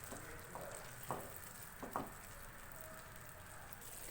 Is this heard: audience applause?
no